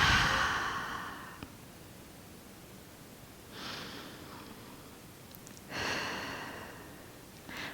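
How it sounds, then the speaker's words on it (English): A person takes a deep breath in and exhales during a full-body stretching workout, with soft, airy breaths rising and falling alone in a quiet room. "Take a deep breath in. Exhale."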